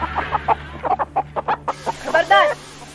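A chicken clucks in a mango grove beside a palace, giving a quick, rhythmic run of about a dozen close, loud clucks that rise into a more agitated squawk at the end.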